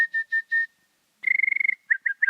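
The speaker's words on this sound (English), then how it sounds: "I can whistle with my tongue also." A person whistles using the tongue, producing a few short separate high notes, then a rapid fluttering trill, then three quick chirps, close and clear against silence.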